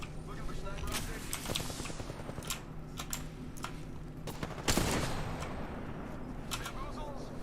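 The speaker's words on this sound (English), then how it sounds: "Taking fire." Video game gunfire crackles in repeated bursts and single shots amid background game noise, with a heavier blast about two-thirds of the way through; a voice talks over it.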